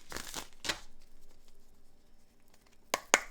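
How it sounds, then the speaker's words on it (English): A few quick riffling bursts of cards being shuffled, close and fairly soft, with a quiet gap between the first pair and the last pair. "I'm going to shuffle again."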